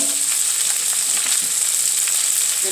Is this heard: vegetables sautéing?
yes